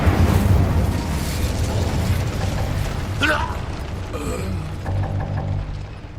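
The Incendio fire spell in the video game Hogwarts Legacy, a loud rumbling burst of flame with mechanical clanks and a brief pop, amid busy game noise and a voice.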